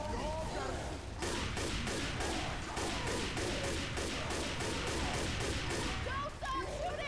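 Rapid automatic gunfire from Left 4 Dead 2 rattles in sustained bursts, loud and continuous, starting after a brief lull and running to the end.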